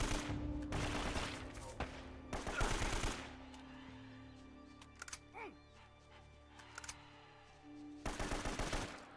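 Gunfire from a gun in Uncharted: Drake's Fortune: several loud bursts of rapid shots separated by quieter pauses with faint game sounds, the last burst near the end, close and sharp.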